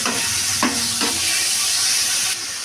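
Spices, ginger-garlic paste, curry leaves, mint, coriander and two tomatoes stirred while frying for chicken biryani: a steady close sizzle with a few scraping stirs of the spoon, no talking.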